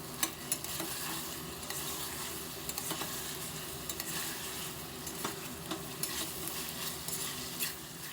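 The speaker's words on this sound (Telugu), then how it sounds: "ఇలా మూత పెట్టి మధ్య మధ్యలో కలుపుకుంటూ ముక్క అనేది ఆయిల్లో మగ్గే వరకు కూడా ఇలా ఫ్రై చేసుకుందాము." Country chicken pieces frying in oil, a dense continuous sizzle with occasional faint stirring clicks and taps, heard alone without voices.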